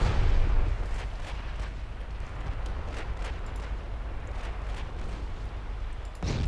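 Heavy naval guns firing during a 1954 warship battle in the strategy game Ultimate Admiral: Dreadnoughts, heard as a continuous loud low rumble with repeated muffled booms layered through it.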